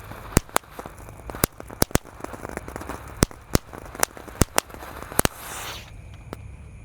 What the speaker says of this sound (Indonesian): kita mulai malam ini dengan menyalakan mercon tank